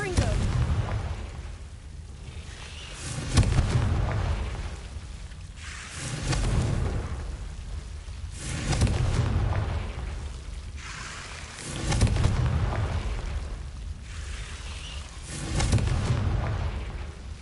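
Confringo blasting spell from Hogwarts Legacy erupting as a series of deep booming blasts, about five in a row spaced every few seconds, each a loud low rumble over a bed of background noise.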